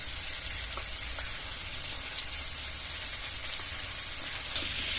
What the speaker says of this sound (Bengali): আমটা খানিকক্ষণ ভেজে নিয়েছি